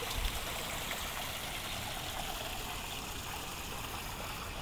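Creek water runs in a constant, even rushing wash with no breaks, steady and moderately close, with no voices over it.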